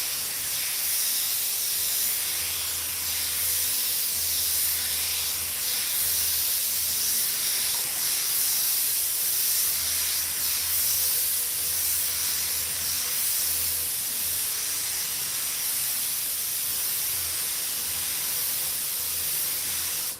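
A spray gun lays down Oriental Blue candy paint over metal flake, a continuous close hiss of atomized spray with a faint low hum pulsing underneath.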